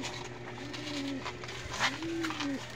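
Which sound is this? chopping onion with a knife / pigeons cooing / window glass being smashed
pigeons cooing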